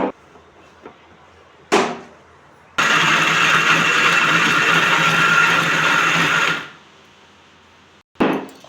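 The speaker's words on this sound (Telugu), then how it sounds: "ఇప్పుడు మిక్సీ పట్టులోది చూపిస్తాను చూడండి." A kitchen mixer grinder grinds cooled roasted spices for a mutton curry: a loud, steady, harsh whir runs for about four seconds, then winds down, with a few clicks and knocks before and after.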